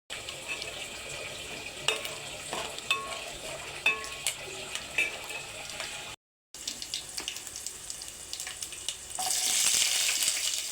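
Steady sizzle of peanuts and tempering seeds frying in hot oil with occasional clicks and stirring, growing louder and hissier toward the end.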